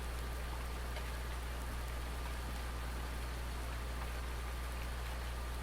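Steady rain falling over farm fields in Farming Simulator 19, a faint, even hiss of drops with a low engine-like drone underneath, no voices.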